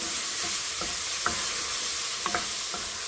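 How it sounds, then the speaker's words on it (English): Minced garlic, about four cloves, sizzling in oil in a pan as a tomato sauce base, a steady close hiss with a few sharp stirring clicks and scrapes. "we're going to throw the equivalent of about 4 cloves of garlic, all chopped up, minced up"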